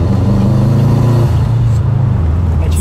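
A 400 hp turbocharged Subaru accelerating hard, its engine a loud, steady, close roar with harmonic drone rising throughout, no voices over it.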